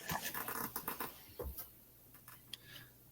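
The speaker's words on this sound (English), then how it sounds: "Got the dog playing around in the room as well for the few minutes here" A dog plays around indoors in a room, making quick patters, scrabbling taps and soft panting noises that come in clustered bursts before fading to sparse, quieter clicks.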